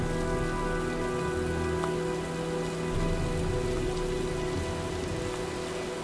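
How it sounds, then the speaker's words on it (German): A steady, dense rainstorm in the video game Heavy Rain, with constant heavy rain pattering on surfaces alongside a low ambient hum, no voices. "Tja, sieht nach einem Sturm aus."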